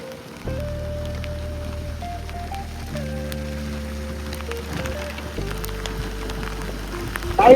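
First monsoon rain falls in Ekole Valley, a steady rain patter on surfaces heard nearby, mixed with a sustained droning tone throughout and a brief louder burst at the very end.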